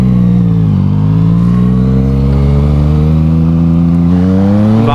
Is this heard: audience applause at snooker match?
no